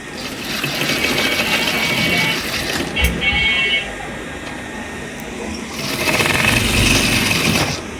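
Sewing machine running in steady bursts while stitching a salwar panel, a mini kali side piece, with a short pause near the middle and quiet background noise around the whirring motor.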